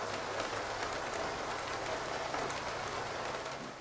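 Steady rain from a driving video game, a dense, even hiss that holds at a constant level throughout with a low rumbling undertone and no talking.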